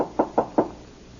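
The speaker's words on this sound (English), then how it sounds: "I'd better knock anyway." Three sharp, evenly spaced knocks land on a wooden cabin door at a dude ranch, close and distinct, followed by a quiet pause with no talking.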